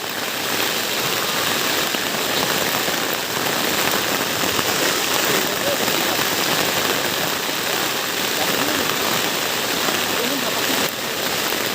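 Rain falls steadily and loudly near the Meghalaya border, drumming on a banana-leaf shelter in a constant dense patter, with faint voices now and then.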